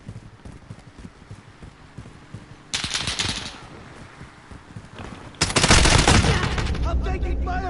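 Gunfire in Call of Duty Modern Warfare crackles as rapid automatic bursts, with quieter distant shots and then two loud, close volleys, while a voice speaks in the background.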